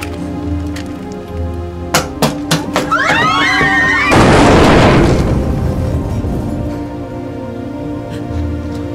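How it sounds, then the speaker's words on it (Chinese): Grenades go off in a Korean film scene aboard a warship, a few sharp pops followed by one loud, sustained blast that rumbles and slowly fades, with a voice briefly heard under the noise. "一颗手雷下去，爆炸声立马传来，就这样议员开始逐一朝窗口投放手雷。"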